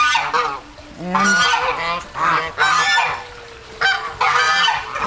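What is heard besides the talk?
geese honking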